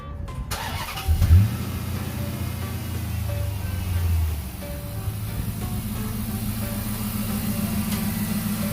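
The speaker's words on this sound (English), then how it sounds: "it's the first time starting it since we put in the new timing chain" A 2005 Chrysler 300C with the 5.7 Hemi V8, fresh from a new timing chain, cranks briefly and fires up, revs once, then settles into a steady, even idle close by.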